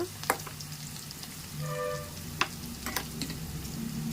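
Onion pieces frying in oil for a chicken curry, a steady close sizzle with a few stirring clinks and scrapes of the spoon against the pan.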